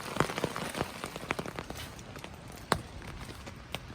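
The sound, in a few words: rain falling at a wild hammock camp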